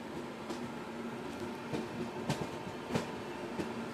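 The 12062 Jan Shatabdi Express runs at full speed, a faint steady rail rumble broken by regular clacks of wheels over track joints.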